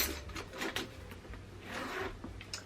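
The zipper on the inside compartment of a Coach Tabby quilted handbag gives a few soft, quick scratchy runs with light rustling between them, faint and close.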